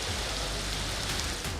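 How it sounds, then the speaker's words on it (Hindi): Torrential monsoon rain pours down steadily during flooding in Pakistan, a dense, even hiss of heavy rainfall without pause. "मानसून की मुसलसल मूसलाधार बारिशें"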